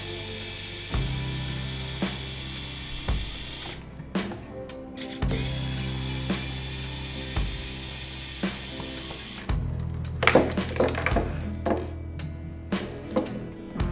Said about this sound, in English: insulated portable screwdriver